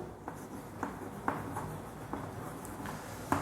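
Chalk or marker writing on a classroom board, a soft scratchy rub broken by small periodic taps as strokes begin, steady and fairly quiet with no talking.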